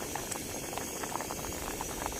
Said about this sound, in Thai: น้ำเดือดเต็มที่แล้วก็